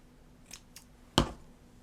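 Scissors cutting strips of material, two light quick snips followed by one louder, sharper close cut, in a quiet room.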